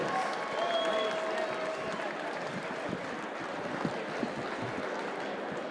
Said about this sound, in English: let's get a big Paramount round of applause for these two warriors